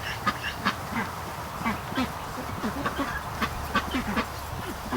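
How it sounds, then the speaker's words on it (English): Ducks quack repeatedly in short, irregular calls at moderate distance, overlapping in a small flock around newly hatched ducklings, with no talk. "Oh, the little ducks."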